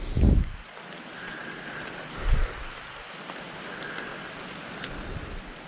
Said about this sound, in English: lakes look like when it's raining.